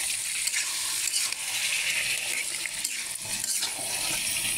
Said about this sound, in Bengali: এখন মাছগুলো আমি ভালো করে কষিয়ে নেব।